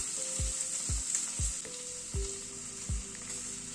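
Peas and chopped ginger sizzle softly in a pan. The quiet, even frying hiss is punctuated by about six dull, regular knocks of a spoon stirring.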